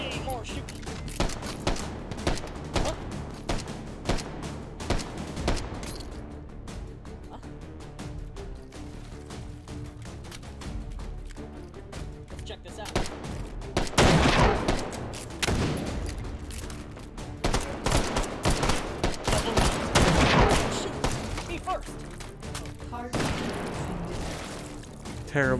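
Potato-firing April Fool's gun in the VR shooter H3VR: sharp, loud shots in rapid clusters and repeated bursts over a continuous game backdrop, with a player talking throughout.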